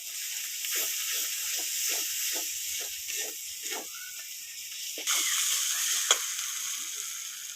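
Sankar fish being stirred in a frying pan with ground coriander-cumin paste: a soft sizzle under repeated scraping strokes of the stirring spoon at a steady rhythm, with a sharper clink toward the end.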